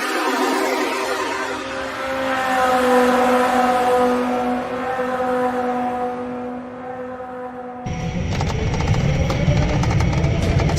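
A car engine held at full throttle drones steadily with a strong sustained tone for several seconds, then shifts abruptly into a rougher, broadband roar near the end, loud and close, with no talking.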